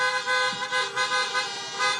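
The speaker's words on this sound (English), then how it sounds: "You got that horn honking good." Car horn honking at an outdoor campaign rally, with repeated toots and a steady harmonic blare that keep going through the whole stretch, fairly loud and pulsing in short bursts.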